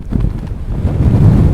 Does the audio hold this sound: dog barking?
no